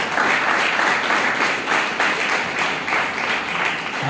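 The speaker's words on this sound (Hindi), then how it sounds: "आपके तालियों में जो दम था" Congregation at a Hindi-language Christian prayer gathering claps loudly and continuously, the dense applause swelling in regular waves throughout.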